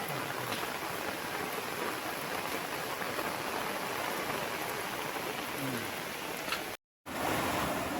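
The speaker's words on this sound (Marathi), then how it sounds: "मित्रांनो पुन्हा आला पाऊस आता." Rain pours down again near a bridge, a dense, even hiss that holds steady with no speech, cut by a brief dropout near the end.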